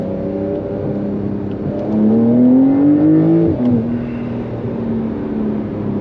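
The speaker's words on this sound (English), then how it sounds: "This thing eats." A 2021 Porsche 992 Carrera accelerating hard, its engine note climbing steadily through a gear before a quick shift and settling, loud and close from inside the cabin.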